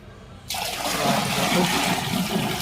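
Water gushes steadily down a drain, a sudden loud rushing flow that starts after a brief quiet moment and keeps going.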